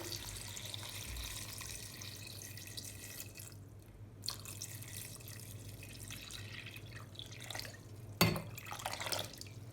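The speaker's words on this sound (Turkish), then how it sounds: "Şimdi üzerine 3 e, litre kadar su ilave edeceğim." Water running from a tap into a pot of washed sour cherries for homemade cherry juice, a steady splashing flow with drips, then a brief louder splash near the end.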